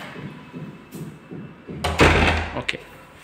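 An apartment door closing in a Hyderabad flat, a soft rhythmic shuffle followed by a loud whooshing swing and a sharp latch knock near the end, close and indoors.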